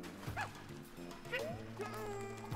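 Poochy, the dog from the video game Yoshi's Woolly World, barks in a few short yips, each with a little bark burst, set over busy game music with chiming effects.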